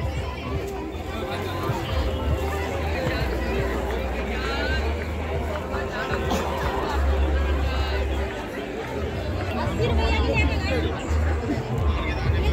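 Dense crowd babble at a busy fair in Jhansi, many overlapping voices and footsteps forming a steady, continuous hubbub with a narrator speaking over it.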